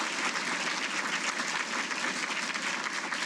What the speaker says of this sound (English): Let's give Donna a round of applause